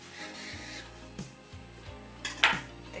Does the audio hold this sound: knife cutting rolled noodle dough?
yes